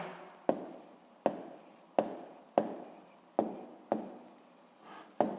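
A pen writing out a sixth-grade math answer on paper, close and quiet, in a steady run of repeated strokes, each starting with a sharp tap and then scratching away.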